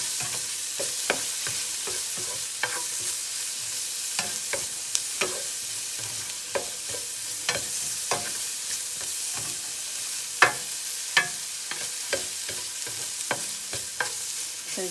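Philly cheesesteak sloppy joe filling with browning onions sizzles steadily in a pan while a utensil stirs and scrapes through it in frequent short, sharp strokes, close and fairly loud.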